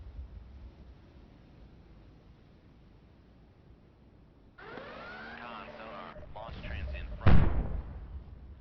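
A ship explosion in the submarine game Cold Waters as the Sovremenny is destroyed: a low hiss and rumbling interference build up, then a single loud, booming blast rolls out and fades over a noisy background.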